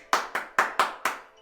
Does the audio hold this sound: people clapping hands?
yes